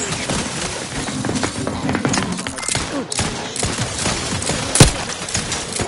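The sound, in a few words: gunfire in the video game The Outer Worlds 2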